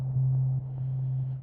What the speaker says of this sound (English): Which has like a sine wave tone, it's some noise.